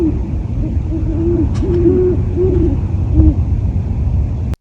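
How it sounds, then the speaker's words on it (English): Great horned owls hoot before sunrise, a series of low, soft, rhythmic hoots repeating a few times over a steady dull background hum, fairly close and clear. "I've been hearing and occasionally catching glimpses of at least 3 other great horned owls hanging around, usually just before sunrise."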